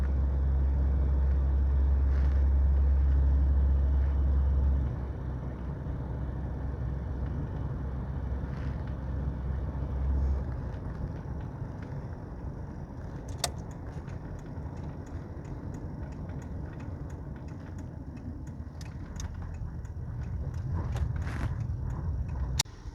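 1985 Cadillac Sedan DeVille with a 4.3L diesel engine being driven, heard from inside as a low steady engine and road rumble that eases slightly after a few seconds, with faint clicks and rattles.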